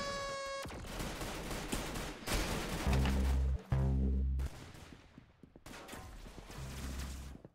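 Gunfire in the Roblox shooter Arsenal, bursts of game shots mixed with music and effects at moderate level, some loud sustained thumping bursts in the middle, no voices.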